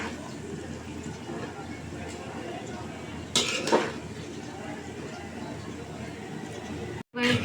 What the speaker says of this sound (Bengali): আস্তে আস্তে আমি সবগুলো উপকরণের সাথে মিক্স করে নেব